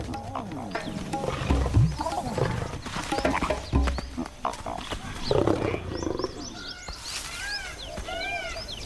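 Asiatic lions in an Indian desert growl and snarl in close, rough bursts while play fighting to greet a lioness, and bird calls chirp over the top near the end.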